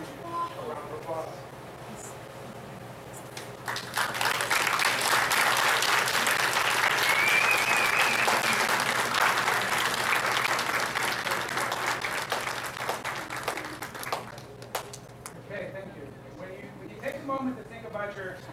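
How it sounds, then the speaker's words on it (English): A large graduation ceremony audience bursts into sustained applause that swells and holds for several seconds before tapering off, with a voice heard faintly at the start and end. "give the people behind you a round of applause"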